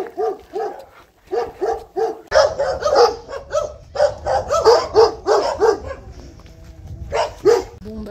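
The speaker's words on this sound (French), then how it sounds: "Et toujours les chiens, bien sûr." Several dogs bark behind a fence along a rural walking route, loud, close and overlapping in rapid bursts, with brief pauses between volleys.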